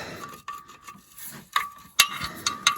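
A 15 mm wrench snugs the oil pan drain bolt on a 2006 Chevy HHR, making several short metallic clicks and scrapes at irregular intervals, close and fairly quiet.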